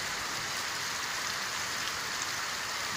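Steady rain pours down in a continuous, even hiss of falling drops, close and uninterrupted throughout with no voices.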